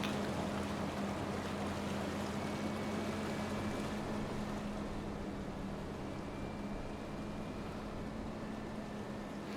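A boat driving through water in Farming Simulator 25 churns up waves, giving a steady broadband wash with a low engine hum beneath it, continuous and fairly loud with no talk.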